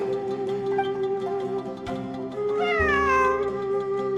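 Cat meowing in the video game Genshin Impact, a drawn-out rising and falling meow heard clearly over a steady musical backdrop, no talk.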